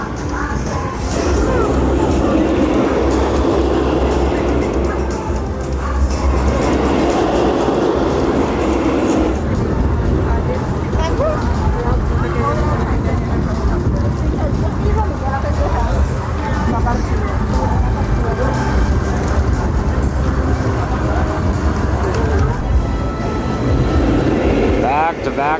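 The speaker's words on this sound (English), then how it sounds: "now the second train is going through the course" A roller coaster train runs through its course at an amusement park, a loud, continuous rumble and roar of wheels on track that holds steady throughout, with faint crowd noise and a voice speaking over it.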